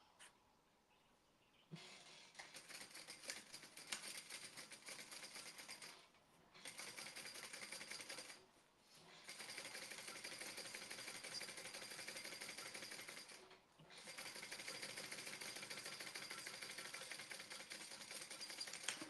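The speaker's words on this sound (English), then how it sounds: "And we're going to top stitch that" A sewing machine runs in three long bursts while top stitching a seam, each a steady rapid mechanical whir broken by short pauses, close and fairly quiet.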